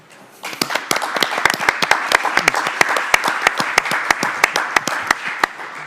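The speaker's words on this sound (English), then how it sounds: "that was a big round of applause." Applause at a DTM Norisring press conference during the 2023 season, a steady round of hand clapping from a small crowd in a room, the claps distinct and fairly close, lasting several seconds with no talk over it.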